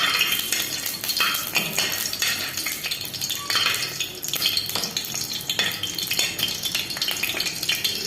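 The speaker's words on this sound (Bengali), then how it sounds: "এখন তেল দিয়ে ফোড়ন দিয়ে দেবো" Whole spices tempering in hot oil in a kadai, giving a close, busy crackle and sizzle mixed with frequent clinks and scrapes of a utensil against the pan.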